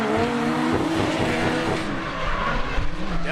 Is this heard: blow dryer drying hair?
no